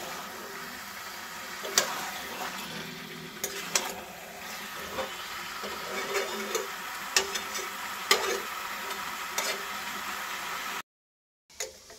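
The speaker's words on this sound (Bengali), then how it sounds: "বেশ কিছুক্ষণ ধরে আমি কষালাম।" Chicken curry with potatoes sautés in a pan, with a continuous sizzle and repeated spoon scrapes and clanks, close and steady. The sound drops out briefly near the end, and there is no talking.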